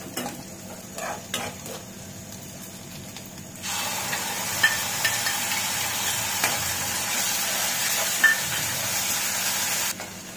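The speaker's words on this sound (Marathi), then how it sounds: "हे छान तेलामध्ये वाटण परतून घ्यायचंय" Onion and coconut paste fries in oil with a bright, steady sizzle that swells partway through, broken by occasional stirring scrapes and clinks, close and without any talking.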